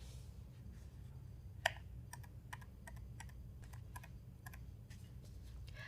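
Computer keyboard keys clack quietly in a short burst of typing, a dozen or so crisp, irregularly spaced taps over a low steady hum, with one sharper strike early on.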